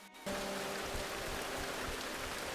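Steady rain falls in the video game Rain, a dense, even hiss of drops that starts abruptly after a brief quiet moment and holds constant, with no voices.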